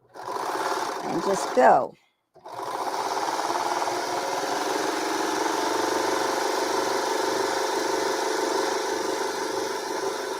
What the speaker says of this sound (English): So you put your differential feet all the way down. All the way down to stretch the material.